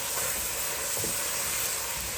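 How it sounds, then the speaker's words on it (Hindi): Half a kilo of mutton fries in hot oil over a high flame, giving a steady, close, continuous sizzle and hiss with no voices. "ऑयल जब गर्म हो जाए आधा किलो मटन डालकर हाई फ्लेम पर अच्छी तरह से फ्राई कर लेंगे"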